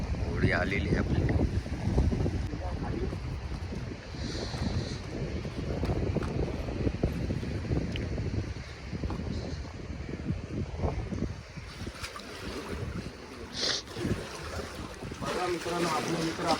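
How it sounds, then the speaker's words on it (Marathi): A small wooden fishing boat comes in across the water on a foggy morning near a bridge. Strong wind buffets the microphone and water laps nearby, with someone talking intermittently over it. "होडी आलेली आहे आपली."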